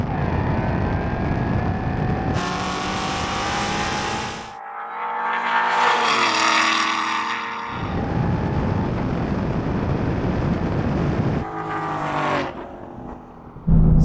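A BMW M3 with 850 horsepower at the wheels drag races a Ford Mustang with 860. Loud engines roar and rev through rising gear pulls, with shifts and shifting pitch, the noise swelling and fading in distinct segments.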